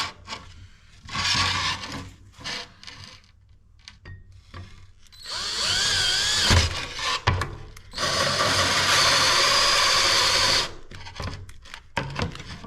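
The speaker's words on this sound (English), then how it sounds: "Got a hole saw and drill." A hole saw on a drill cuts through a switch panel, the motor whining in short bursts, then two long sustained grinding runs as it cuts through material.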